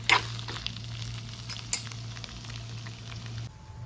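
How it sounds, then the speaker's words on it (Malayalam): Vegetables, including okra, sauté lightly in a pan for a Kerala-style sambar, giving a faint steady sizzle with a few soft clinks of stirring, over a low background hum, before cutting off. "ചെറുതായിട്ടൊന്ന് വഴണ്ടാൽ മതി, നല്ല ബ്രൗൺ കളർ ആകണമെന്നൊന്നും ഇല്ല."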